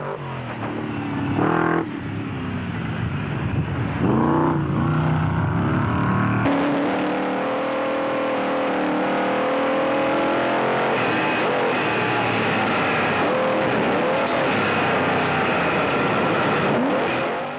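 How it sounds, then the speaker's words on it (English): A rally car engine at full throttle during a prologue stage of the Carnival City 400 in 2005, loud and close, revving hard with rising gear pulls, then a long sustained roar as it accelerates away. "The softly spoken driver was hard on the throttle."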